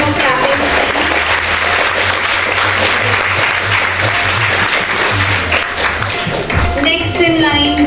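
A large audience at a school awards day claps loudly and steadily for the full stretch, a dense sustained wash of applause with voices rising near the end.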